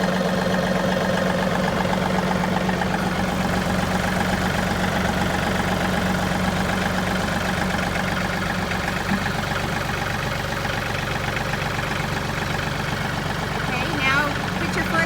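A John Deere 2032R compact tractor engine idles steadily with a constant low rumble and even mechanical drone, while someone talks over it close by.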